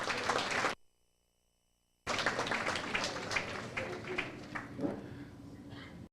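Applause from a Florida chapter launch audience for Sister Margaret Leslie, a dense burst of clapping with voices mixed in, cut by about a second of silence before the clapping resumes and carries on to the end.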